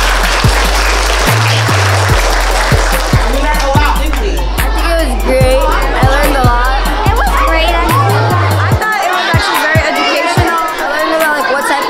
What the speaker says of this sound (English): Can you please give the team that came out to see us a big round of applause?